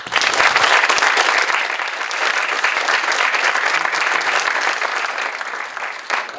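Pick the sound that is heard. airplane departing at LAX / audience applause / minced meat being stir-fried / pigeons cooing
audience applause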